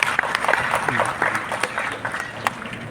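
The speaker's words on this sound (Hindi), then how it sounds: "जोरदार ताली भूमि कुमारी के लिए।" Audience applause in an auditorium at a state award ceremony honouring intermediate and matriculation exam toppers, with a dense round of clapping and crowd noise continuing throughout and mixed with some voices.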